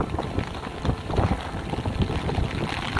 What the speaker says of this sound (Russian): Какой тут ветер дунул.